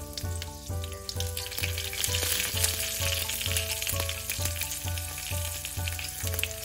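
Fenugreek seeds, cumin and a dried red chili fry in hot oil, a bright steady sizzle with soft crackles, while a rhythmic low musical beat pulses underneath throughout.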